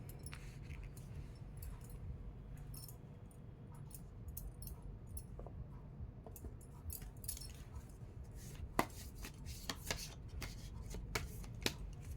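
Soft riffling and flicking of cards being shuffled during a card reading, faint and close, with crisp irregular snaps over a low steady background hum.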